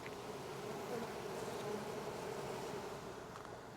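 Honeybees in an open hive give a steady, dense buzzing drone that holds evenly throughout with no talk.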